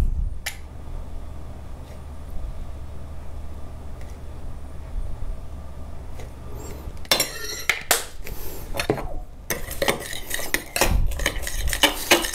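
A spoon stirs a sauce of hot sauce and ketchup in a bowl for shrimp, first as a soft steady scraping and then as loud clinking, scraping strokes up close, with no one talking.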